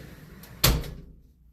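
A closet door in a hotel room opens with a single sharp knock or clack, brief and close, followed by a quick fading rattle in an otherwise quiet room.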